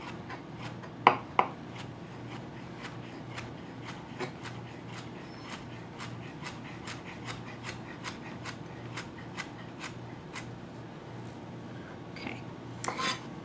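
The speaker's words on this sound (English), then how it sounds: "put our hand on top of our knife, and just start chopping" A knife chops trimmed vegetable stems on a cutting board for pickles, with quick, regular light taps across the whole stretch and a couple of louder knocks near the start.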